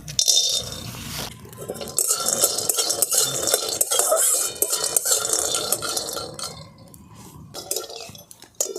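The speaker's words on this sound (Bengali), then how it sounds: "এখানে নিয়ে নিয়েছি চীনা বাদাম আমি শুকনো কড়ার মধ্যে একটুখানি নেড়ে নেবো" Peanuts stirred in a dry karahi over a stove, a busy run of scraping, clinking and rattling from the utensil and nuts against the metal pan, close and fairly loud throughout with no talking.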